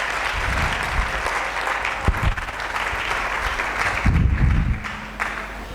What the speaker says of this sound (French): Est-ce que nous pouvons acclamer très fort?